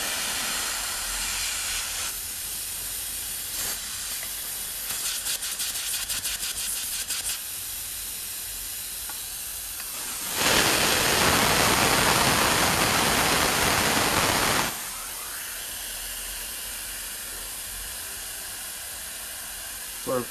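Gas hissing out of a gun being disassembled, with a steady hiss throughout and a much louder, rushing release lasting several seconds in the middle before dropping back to a quieter hiss.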